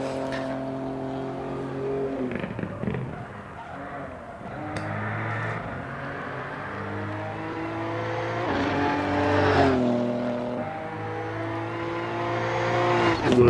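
An electric rally car races and drifts on a gravel special stage, a high tonal electric motor whine rising and falling with acceleration, plus tyre scrabble and gravel noise, heard loud and close throughout.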